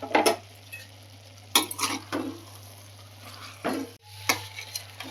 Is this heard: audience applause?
no